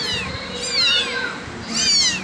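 A kitten meows repeatedly while being bottle-fed milk, two clear, fairly loud rising-and-falling cries heard up close with short pauses between them.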